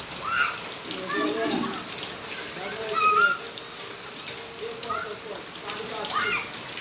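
Steady rain falls over farmland during the first monsoon downpour, a continuous hiss of drops with faint background voices.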